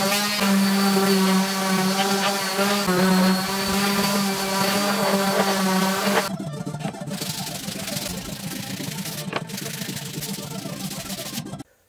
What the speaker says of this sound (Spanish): Yo le voy a alijar con la lijadora orbital, con una lija número 80 primeramente